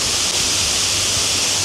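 Dense, continuous rushing of seawater splashing along the shore on the Côte d'Azur, loud and close with no break and no voices.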